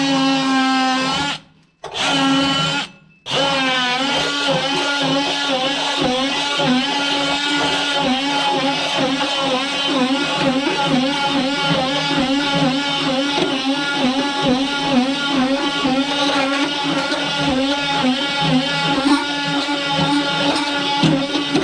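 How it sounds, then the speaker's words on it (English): Oscillating multi-tool fitted with a scraper blade, stripping glued foam from the rotting floor of a 1976 Ford Econoline E-150 van. It gives a loud, steady buzzing whine that cuts out briefly twice near the start, then runs on continuously with a shifting, scraping tone. "I got a scraper on this little oscillating tool"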